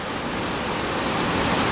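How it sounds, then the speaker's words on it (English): Floodwater pouring down the stairs of a hot spring during heavy rain, a loud, continuous, broadband rush with no breaks and no voices. "there's water pouring down the stairs of the hot spring"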